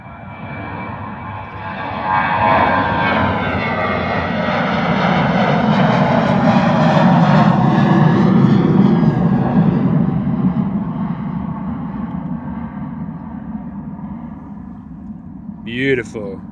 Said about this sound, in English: Gorgeous departure there from my friends at Jet2.